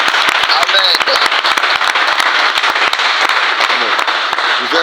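A church congregation applauding, loud and dense clapping from many hands that continues steadily without a break, close and filling the room, with voices calling out faintly beneath the claps.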